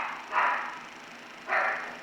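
A dog barking outside at a distance, two separate barks about a second apart, moderately faint.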